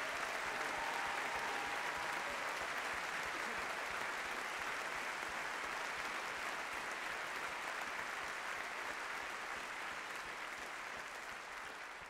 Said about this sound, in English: Big round of applause tonight.